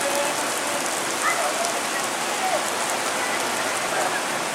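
Steady rain patters on a surface, a dense, even hiss with occasional faint tones, close and constant.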